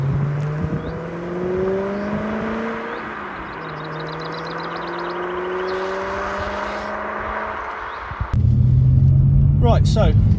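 A BMW E92 M3 pulls away on the road, its engine note climbing through gears with rising and falling tones, then a louder, heavier drone near the end, under someone talking most of the time.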